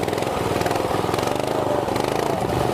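A 50cc mini pocket bike engine runs steadily nearby, a loud, buzzing two-stroke drone holding a constant pitch with no voices.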